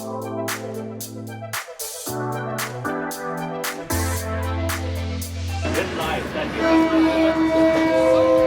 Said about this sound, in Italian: Sta arrivando il trenino.